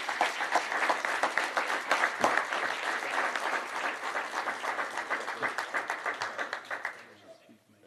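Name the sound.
audience applause for newly appointed fire command staff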